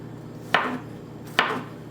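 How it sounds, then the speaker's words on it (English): Two sharp knife chops through chilies on a cutting board, about a second apart, each a crisp thud with a brief ring-out, with quiet room tone between. "I'm gonna chop the chilies, and I'm gonna add to the blender as well."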